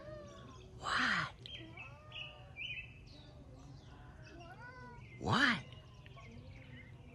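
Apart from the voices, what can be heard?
cat meowing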